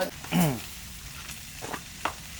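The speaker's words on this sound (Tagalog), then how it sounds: "piprito ko lang siya" Food sizzles and crackles in a hot pan at a campsite, with a brief voice and light scraping of stirring over the steady frying hiss.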